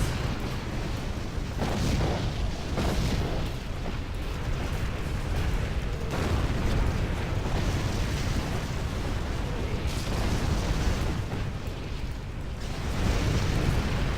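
Inferno cannon artillery shells in the strategy game Rise of the Reds, a dense continuous barrage of fiery booms and crackling bursts, loud and unbroken throughout.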